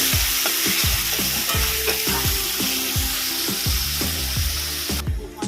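Onions fry with a loud, continuous sizzle in a pan while a utensil stirs and scrapes them in a steady rhythm of repeated strokes, close up, with no talking.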